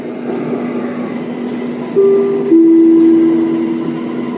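A Bangkok MRT Blue Line metro train stands at Fai Chai station, its steady hum rising as tones sound and the train begins to move, loud and close from inside the carriage.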